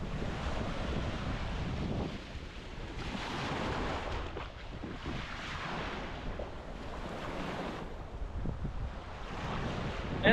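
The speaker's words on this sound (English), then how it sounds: "Nice little secluded beach made of mixed sand and stones." Waves wash onto a secluded beach of mixed sand and stones in Crete, a continuous surging hiss that swells and recedes, with heavy wind buffeting the microphone.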